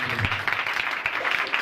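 A church congregation claps briefly in praise of Jesus, a short, moderately loud burst of clapping heard up close.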